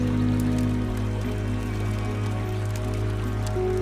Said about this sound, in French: Là, on voit bien sur l'eau, il pleut.